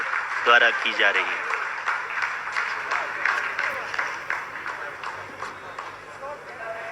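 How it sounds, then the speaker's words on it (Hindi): Scientists applaud in the mission control room after the Chandrayaan-3 lander completes a descent phase, a dense patter of clapping heard under a commentator's ongoing speech. "आप इस तालियों के गड़गड़ाहट को सुन सकते हैं"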